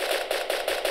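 Rapid automatic gunfire in the video game Arma 2 crackles in a fast, regular burst of about five evenly spaced shots, moderately loud, with no talking over it.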